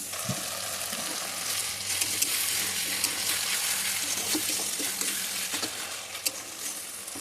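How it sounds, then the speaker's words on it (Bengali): Tomato, turmeric and chili powder are stirred through hot oil in a pan for chicken curry, giving a continuous bright sizzle with scattered scraping and clicking of the spoon, close and fairly loud, with no talking. "টমেটো দিয়ে এটা ভালো করে নেড়ে নিতে হবে যাতে তলায় যেন না বসে যায়"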